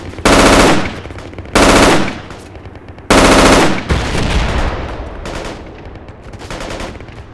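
In the video game Project Reality, a machine gun fires three loud, close bursts, each under a second long, separated by short pauses. Softer distant gunfire and rumble follow.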